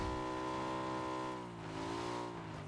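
Engine of a car in a console shooter video game, a steady harmonic drone that dips in pitch midway and then rises again, heard close and alone without talk.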